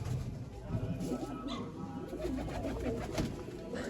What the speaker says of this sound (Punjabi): ਆ ਕਾਲੇ ਕਬੂਤਰ ਨਿਗਾਹ ਮਾਰ ਲਓ